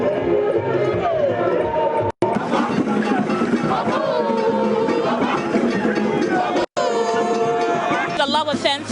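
Crowd of hundreds walking at the Love and Share FM Fitness Walk in Kumasi, a loud, dense babble of voices and movement held steady throughout, broken by two brief silences.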